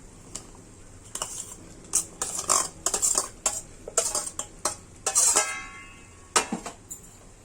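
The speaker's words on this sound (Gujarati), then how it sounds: "હવે આપણે એની અંદર કોર્ન અને કેપ્સિકમ નાખી દઈએ. પહેલા કોર્ન નાખી દઈએ." Corn being added to a cooking pan of gravy and masala for a corn capsicum dish, heard as close, irregular clinks and scrapes of a spoon against the pan with brief rattling bursts.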